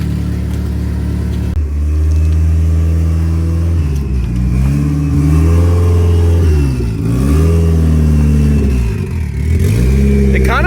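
An AWD Eagle Talon engine with a post-turbo exhaust leak idles loudly and revs several times while warming up, each throttle blip swelling and falling with a raspy exhaust note as people talk nearby.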